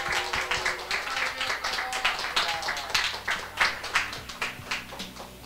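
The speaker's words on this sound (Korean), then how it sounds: "격려의 박수 한번 드릴게요" A church congregation clapping at a Sunday service, a steady patter of applause with quiet murmuring underneath.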